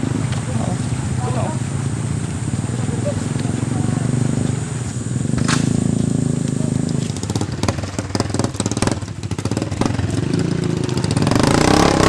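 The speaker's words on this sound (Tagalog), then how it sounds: "Kinakailangan pa nilang itulak ang mga motorsiklo na nabalahaw sa maputik na daan." Motorcycle engines idle and rev on a muddy rural road, a steady mid-pitched drone with bursts of throttle, close by, while people talk over the engine noise.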